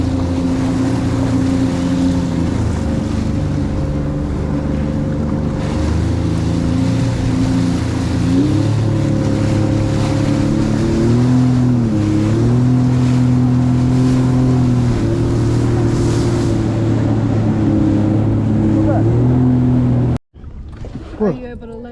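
Jet ski speeding across open ocean waves on the way to Catalina, a loud sustained engine whine that rises and falls with throttle over wind and water spray, cutting off abruptly near the end.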